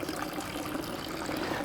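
A continuous stream of water pours from a nasone, one of Rome's public drinking fountains, making a steady close splashing trickle with no talk.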